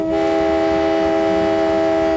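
A cornet horn on an early tram, sounded to warn of the car's passage, gives one loud, steady, sustained brassy tone held for about two seconds with no talk over it.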